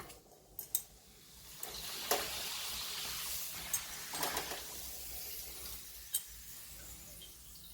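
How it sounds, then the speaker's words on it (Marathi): Papad frying in hot oil gives a soft, steady sizzle with a few faint clinks of a utensil against the pan, heard quietly and close by. "पहा तेल आपलं तापलेलं आहे आपण आता हे पापड तळून घेऊया"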